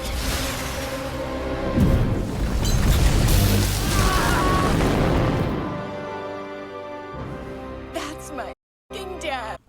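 A bomb blows up a suit in the animated Rick and Morty, a broad rumbling blast that roars for several seconds before fading into quieter tonal sound with abrupt cuts near the end.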